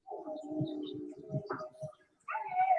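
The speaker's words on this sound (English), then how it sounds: "One starts howling, the other starts howling." Two dogs howling together at close range, a long wavering moan with yips and whimpers breaking in, briefly fading before a higher, louder howl returns at the end.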